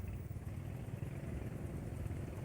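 Motorcycle engine with about 8,000 km on it running steadily and smoothly, a continuous low, even hum close by with no talking.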